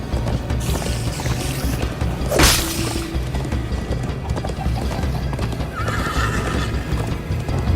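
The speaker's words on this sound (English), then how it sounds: "First time on a horse here." A horse gallops in the video game Minecraft: Story Mode, with steady clip-clop hoofbeats and a loud neigh partway through, set against chase music and a whoosh.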